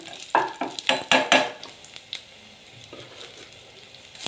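Garlic crackles in a hot pan on a gas stove as a utensil scrapes and stirs it, with a burst of quick strokes early on and then a softer, steady sizzle, close by with no voices.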